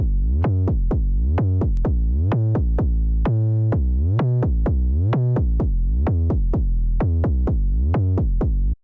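Deep synth bass alone plays a bouncy, rhythmic line of short pulsing notes with slides and a sustained note midway, loud and close.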